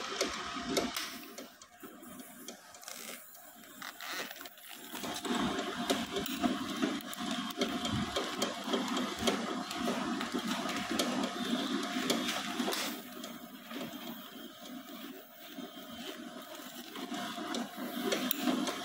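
A nitrogen-flushing band sealer vacuums a package, giving a steady mechanical whir and hiss with rapid ticking and clicking that runs for nearly twenty seconds and drops briefly early on.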